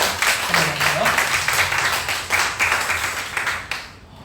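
Close, lively clapping from a Korean church congregation during Sunday worship comes in uneven surges. A voice is briefly heard under the clapping, and the hands die away to near silence at the end.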